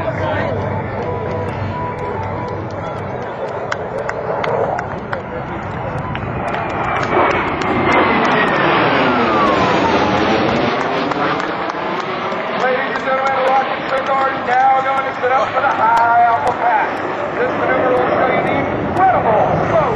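F/A-18F Super Hornet jet flying at an air show, its engine roar swelling and sweeping in pitch as it passes nearby, with a public-address announcer and crowd murmur heard throughout.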